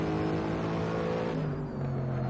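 A Mercedes SLS GT3 racing around Monza in the game Assetto Corsa, its engine a steady, loud drone that dips slightly in pitch partway through the short stretch.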